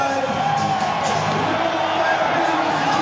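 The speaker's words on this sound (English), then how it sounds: "the crowd has certainly found its voice" Rugby crowd at a Hawkes Bay versus Bay of Plenty ITM Cup match cheering and whooping after the restart, a loud, sustained roar of massed voices with a commentator talking over it.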